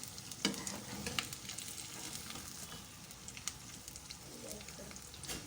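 Potatoes and onions softening in a frying pan for a Spanish tortilla, a fairly quiet steady sizzle broken by scattered stirring scrapes and small clicks, with no voices.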